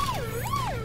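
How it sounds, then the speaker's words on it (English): An emergency vehicle siren in a Paw Patrol racing video game wails with a smooth rising and falling tone, clear and steady over a low background hum, in a brief burst of under a second. "Yep, put the sirens on."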